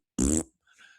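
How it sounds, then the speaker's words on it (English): Cartoon fart sound effect from an animated TV episode: one loud, buzzy blast lasting about a quarter second, then a fainter, thinner sputter trailing after a short pause. "this pose allows you to fart out your troubles"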